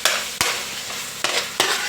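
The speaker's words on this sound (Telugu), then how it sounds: "ఇప్పుడు ఈ చికెన్ పీస్ని కూడా వేయించుదాం." Chicken pieces fry in a hot pan with a steady sizzle, broken by a few sharp spatula strikes and stirring scrapes at irregular intervals.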